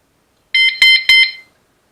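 Three quick electronic beeps from a bicycle rear light's remote-controlled alarm, shrill and close, each short chirp sounding in a rapid run before stopping.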